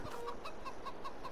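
Chickens in a farm's chicken area in Farming Simulator 22 cluck in a quick, regular series of short calls, faint and steady against a soft background.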